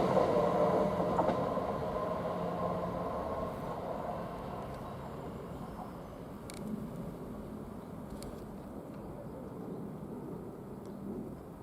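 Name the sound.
train passing through Royston station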